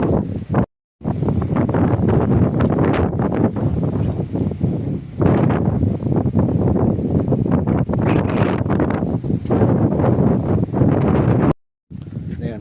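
Strong gusting wind roars against the microphone almost continuously under a banyan tree at the Chitharal Jain temple, with rustling and brief dropouts, close and loud.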